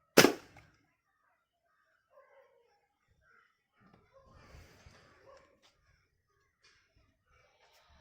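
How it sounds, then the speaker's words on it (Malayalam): A single sharp air gun shot cracks out at the start, loud and close, followed by a quiet stretch with faint scattered sounds and distant murmuring. "അത് നമ്മൾ ചോക്കാണ് അടിച്ചു പൊട്ടിക്കാൻ പോകുന്നത്, ആക്യുറസി ചെക്ക് ചെയ്യാൻ."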